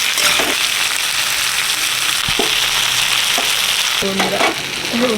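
Steady, loud sizzling of potatoes and eggplant frying in a hot pan, broken by a few scraping stirs of a spatula.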